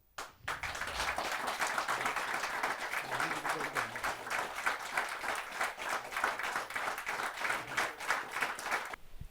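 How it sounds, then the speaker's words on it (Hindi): An audience at a Hindi kavi sammelan poetry gathering gives sustained, dense applause welcoming a poet from Bhiwani, clapping steadily for several seconds at moderate volume. "भिवानी से पधारे हुए अंकुर अग्रवाल जी को आप सबकी जोरदार तालियों से स्वागत करते हैं"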